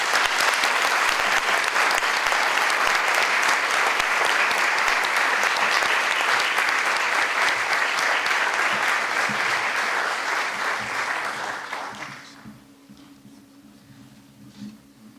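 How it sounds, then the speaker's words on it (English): Sustained, dense applause from a large audience at a Yom HaShoah commemoration, loud and steady for about twelve seconds before fading out to near silence. "Maybe one more round of applause for them."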